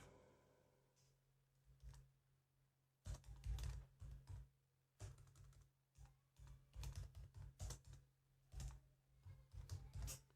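Quiet clicking keystrokes on a computer keyboard arrive in irregular bursts with short pauses between them, close and soft, with no voices.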